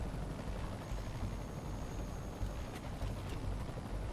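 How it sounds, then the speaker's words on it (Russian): Helicopters in the video game Marvel's Spider-Man Remastered, heard as a steady, dense rotor drone that fills the scene at a constant loudness, with a few faint high clicks partway through. "И вертолеты до кучи."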